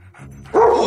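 A dog barks once, loud and close, in a comedy film scene. A short yelp follows a faint lead-in.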